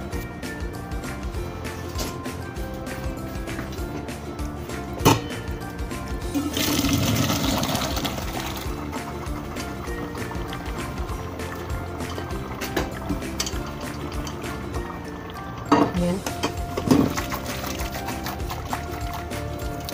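Cooked macaroni tipped into a strainer with a long rush of running, pouring water, loud and continuous for about twenty seconds, with a few clanks and a brief surge of splashing partway through.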